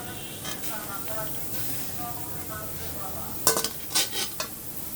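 Onion, garlic and green chili frying in a pan, a steady soft sizzle with scattered metallic utensil scrapes and clinks near the end, close and moderately quiet.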